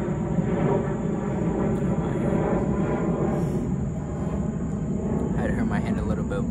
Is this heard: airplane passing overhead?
yes